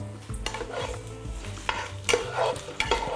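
Quince pieces are lifted out of a pan of hot spiced oil, with a soft sizzle under repeated scraping and clinking of a utensil against the pan, including a few sharper knocks.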